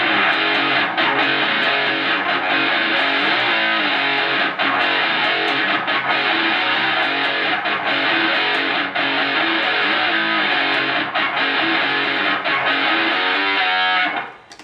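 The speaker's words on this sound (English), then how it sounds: "I've hooked that up to my distortion pedal, and then together I get this really distorted sound like this." Electric guitar played through an amp and distortion pedal, a dense, saturated lead line with a steady heavy fuzz that sustains almost continuously, then cuts off abruptly at the end; no talking.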